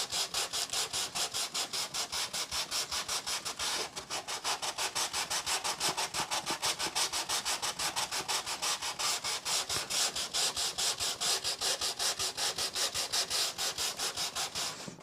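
Rhythmic back-and-forth rasping of sandpaper on the wooden hull of a 1:72 scale HMS Victory model ship, dozens of quick even strokes continuing steadily and close up, with only a brief pause near the start.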